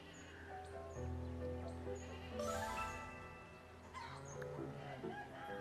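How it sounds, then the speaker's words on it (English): Sheep bleat repeatedly among mixed farm animal noises, moderately loud and continuous, with layered calls overlapping through the scene and possible bird chirps in the background. "We don't need the bustling farm noises."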